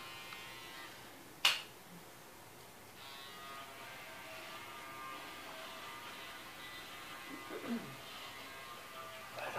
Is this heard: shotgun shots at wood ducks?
no